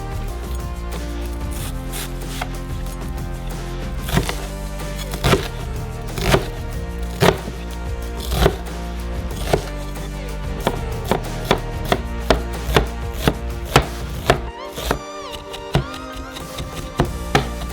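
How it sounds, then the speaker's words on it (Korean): A large onion being finely chopped on a board, with repeated crisp knife strikes in an uneven rhythm, close and clear, with no speech. "큰 양파의 껍질을 벗기고 잘게 썰어주세요."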